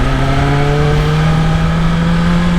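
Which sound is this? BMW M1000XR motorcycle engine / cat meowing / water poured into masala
BMW M1000XR motorcycle engine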